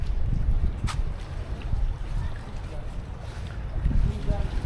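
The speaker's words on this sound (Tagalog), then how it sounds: "Lakas ang hangin" Strong wind buffets a boat out at sea as a rainstorm approaches, a steady loud rumble of gusts and microphone wind noise roaring alone throughout.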